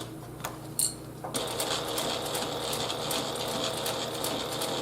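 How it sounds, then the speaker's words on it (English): A sewing machine stitches along a fabric edge with an edge foot: after a couple of soft clicks and a brief pause, a steady rapid whirring of the motor and needle runs on, quiet and close. "so we're just sewing along the edge with our edge foot"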